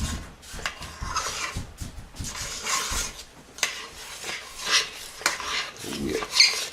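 Metal spoon scraping stuck porridge off the bottom of a metal pot down to bare metal, a run of rough, rasping strokes with irregular rhythm, close up and fairly clear.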